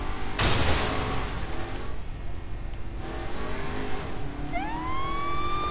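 Police siren from the video game Saints Row 4 over steady car engine and traffic noise, with a rising wail sweeping in clearly near the end.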